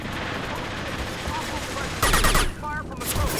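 A Krogan opens fire in Mass Effect 2 Legendary Edition: a dense, crackling burst of gunfire rises sharply over a steady rumble of battle noise and then breaks off.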